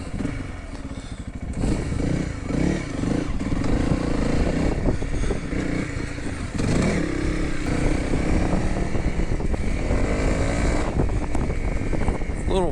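A Honda CRF300L motorcycle rides slowly around a track, its engine drone steady and close with shifting pitch, wind buffeting and light clatter over the mic.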